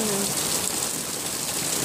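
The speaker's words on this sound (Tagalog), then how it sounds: "Ngayon, ang lakas ng ulan." Heavy rain pours down in a dense, constant hiss, loud and close, with no voices, heavy enough to flood the drains.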